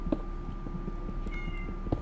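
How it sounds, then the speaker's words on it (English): A cat meows indoors, one short call near the start and another near the end, moderately close, over a faint steady hum with no talk. "Stupid cat."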